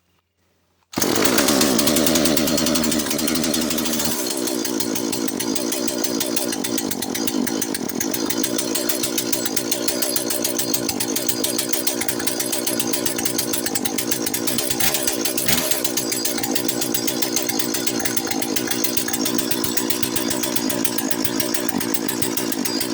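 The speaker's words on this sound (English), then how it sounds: "we're gonna give it a choke. It's kind of hard to pull" A repaired Poulan chainsaw fires up after about a second of near silence, then runs loud and steady at close range for over twenty seconds, with a change in pitch around four seconds as it settles from choke to idle.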